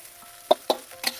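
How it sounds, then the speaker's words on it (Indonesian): Spoon scraping and stirring fried rice in a pan, three short separate strokes over a faint background, no talk. "Kacau-kacau lagi."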